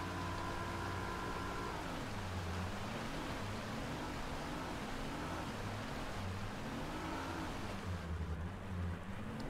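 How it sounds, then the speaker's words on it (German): A 175-horsepower boat motor in a bass fishing video game drones loudly and steadily, its pitch wavering up and down as it revs, with a wash of rushing water underneath. "Das ist ja ein Motor, macht aber auch einen Krach"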